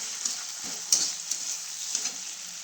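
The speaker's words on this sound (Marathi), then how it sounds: "हिरवी मिरची टाकून बटाटे टाकले आता शिजायला" Potatoes and green chilies frying in a pan at home, a steady soft sizzle with occasional stirring scrapes and light clinks, close by and without speech.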